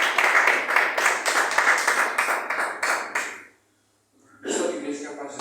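Church congregation clapping and applauding strongly, a dense sustained burst of many hands for about three and a half seconds, a brief pause, then the clapping resumes.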